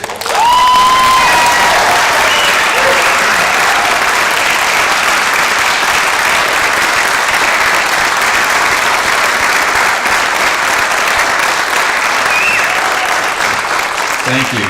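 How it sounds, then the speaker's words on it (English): Dense, steady applause from a large audience honoring children's choir performers, sustained loudly throughout with a few faint voices and whistles mixed into the crowd noise. "just one more time, we like to hear applause"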